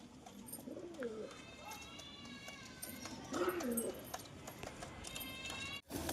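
Pigeons in a cage give a few soft, rolling coos, spaced apart over a quiet background with faint scattered clicks and shuffling.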